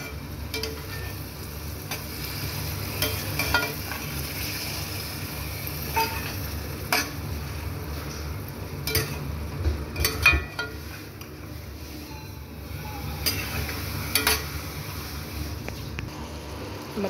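Vegetables and a cup of thick yogurt are stirred together in a hot pan for vegetable paneer biryani, with a low steady sizzle under scattered scraping clicks from the spoon, close and fairly quiet.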